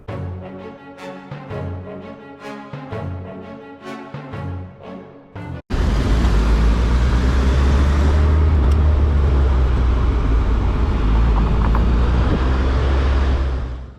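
Dense road traffic heard from a moped in city riding: a steady, loud, continuous roar of engines and road noise fills most of the clip after a sudden jump in level, with music-like tones before it.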